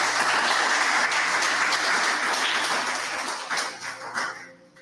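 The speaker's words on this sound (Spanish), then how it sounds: "aplauso a nuestro Dios." A church congregation gives a short burst of applause during a sermon, loud and dense at first, then tapering off into scattered claps.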